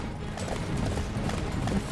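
Horse hoofbeats in the video game Attack on Titan clop along steadily, close and fairly loud, mixed with a low mechanical rumble.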